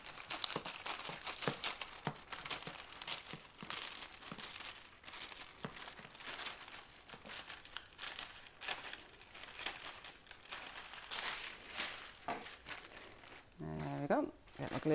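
Plastic bag of wax melts crinkles and rustles continuously while being cut and handled, close and fairly loud, with snipping and shuffling throughout and a few sharper crunches near the end.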